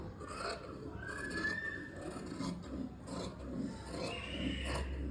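Scissors cut through fabric for a frock, giving a continuous close rasping and rubbing with a steady stroke-by-stroke rhythm and occasional thin squeaks of the blades.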